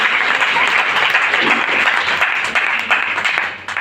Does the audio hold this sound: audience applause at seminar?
yes